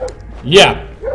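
A guard dog in the stealth game Splinter Cell: Blacklist gives a single close bark with a yelping rise, briefly overlapped by a man's short spoken word.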